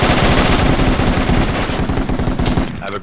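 Machine gun fire in Project Reality on Kokan in an Afghan insurgency battle: a loud, close, sustained rapid burst of automatic shots that continues almost without pause for about three seconds before tapering off.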